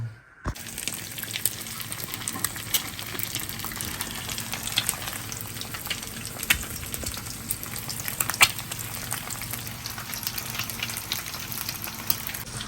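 Eggs fry in a pan with a continuous crackling sizzle, and scattered pops and spatters break through. It is moderately quiet, starts after a brief moment of near silence and has no talking.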